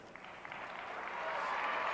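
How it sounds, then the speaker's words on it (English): Applause from a crowd at a 1997 girls high school basketball game, a steady broadband patter that swells in the second half and fills the gym with no clear voices on top. "Aaron Powers getting a good round of applause as she stepped it up there"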